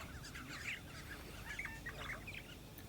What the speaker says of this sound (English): The whole atmosphere changed with a peculiar sound the other birds watching the fight were making